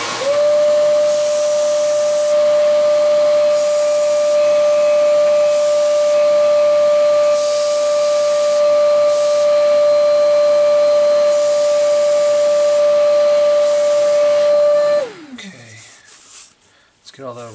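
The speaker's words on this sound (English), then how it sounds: "we need to hold that down on the sander, get it perfectly flat" A PVC pipe edge is held flat against a power sander, a loud continuous whine with a steady tonal hum and hiss that runs for about fifteen seconds before the machine winds down.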